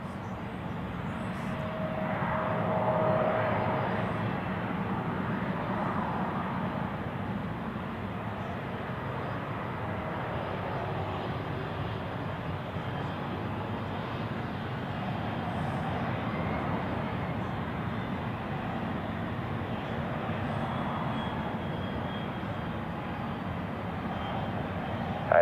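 Airplane engine roar at Zurich Airport, a steady broadband rumble that holds for the whole stretch and swells slightly near the start, heard during a crosswind landing on runway 28.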